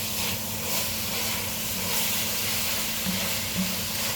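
Bolognese ingredients sizzle in a pan on the stove, giving a steady, fairly quiet broadband hiss that runs unbroken for a few seconds with no talking.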